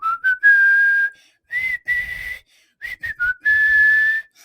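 A man whistles the melody of a song, clear sustained tones in several phrases separated by short breaths, close and loud with no talking.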